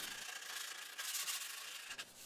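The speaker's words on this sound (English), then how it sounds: "gave it all a good sanding" Steady abrasive sanding on a wooden cutting board, a continuous gritty rasp that swells and dips slightly, close and fairly loud with no voices.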